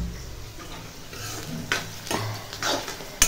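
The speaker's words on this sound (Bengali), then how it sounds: "এদিকে বেরেস্তার জন্য পেঁয়াজ ভেজে নিচ্ছি।" Onions fry for biryani beresta with a quiet, steady sizzle. Stirring scrapes and clinks of a utensil against the pan come and go, ending with a sharp metallic tap.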